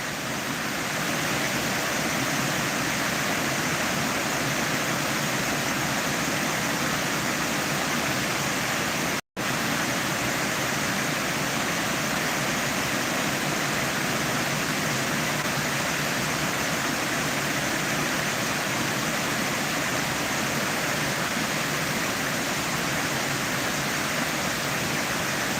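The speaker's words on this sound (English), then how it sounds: "I'll let you hear the sights and sounds of the waterfall here" A steady, roaring rush of falling water, loud and constant throughout, with no voices; a brief cut in the middle.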